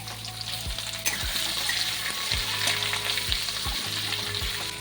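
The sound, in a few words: onions frying in a pan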